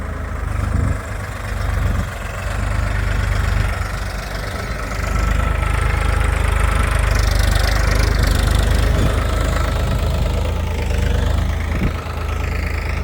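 Deep, continuous chugging of a tractor engine with a laser land-leveling machine running close by in a farm field, a knocking low rumble that holds steady with slight swells.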